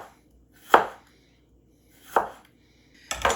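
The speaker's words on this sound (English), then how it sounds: "I'm just going to cut like little, almost like little matchsticks, little thin slices that are half the size." A knife slices food into thin matchstick pieces on a cutting board, three sharp separate chops spaced about a second and a half apart, close and crisp, with quiet between strokes and no voices.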